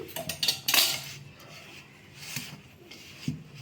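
Sunni undalu ingredients being mixed by hand in a metal bowl, a close series of scraping, rubbing and light clinking sounds, busier at the start and sparser toward the end; no talking.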